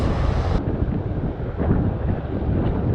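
Steady buffeting wind roars across the microphone on a beach, with a faint wash of surf beneath it and no voices.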